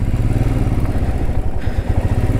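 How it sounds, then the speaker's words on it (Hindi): Off-road motorcycle revving as it sinks into deep powdery dust, a close, loud, rumbling engine with chugging pulses and clattering throughout, no voices. "चलो मैं अपनी बाइक उतार के देखता हूँ कितना अंदर घुसता है।"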